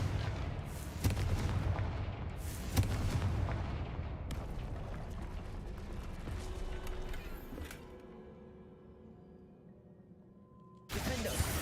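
Spell blasts cast in the video game Hogwarts Legacy, several heavy booming impacts and crackling explosions in sequence, loud and close, with rumbling decay between them and a final blast at the end.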